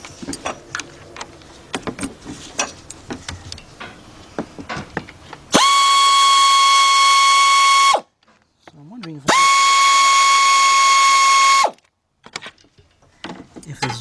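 A pneumatic or power tool whines in two loud, sustained bursts while bracket bolts come out of a Chrysler, Dodge or Jeep engine during timing belt work, after a stretch of clicks and handling noises.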